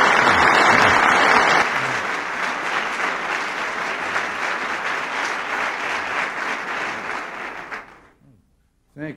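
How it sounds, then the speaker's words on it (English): Audience applause for President Reagan, a loud, dense clatter of many hands that runs steadily for about eight seconds and then breaks off abruptly, with nobody speaking over it. "I think George and I should be applauding you"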